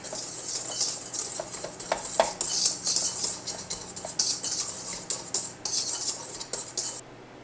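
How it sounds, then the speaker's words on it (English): Ingredients for gluten-free sourdough are whisked in a bowl, making a fast, continuous patter of light metallic taps and scrapes up close for several seconds before stopping. "Then you give this a nice little whisk."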